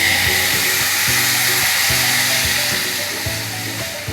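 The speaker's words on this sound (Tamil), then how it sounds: "கொதிக்கிற தண்ணி எடுத்து இப்போ இந்த அரிசி ரவையில் வறுத்த ரவையில் இதை எடுத்து இதில் ஊற்றிக்கணும்." Boiling water poured onto roasted semolina gives a steady, loud sizzling hiss that continues throughout.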